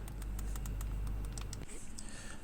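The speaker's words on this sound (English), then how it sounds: "The triggers are nice and clicky and do the job just fine." Clicky triggers on an RG 350 handheld game console are pressed in a quick run of crisp, small clicks, close and faint over a low steady hum.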